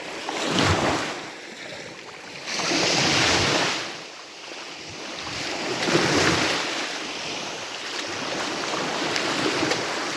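Waves wash in surges along the shore as someone wades into cool water, rushing swells rising and falling in a slow rhythm under gusty wind on the microphone.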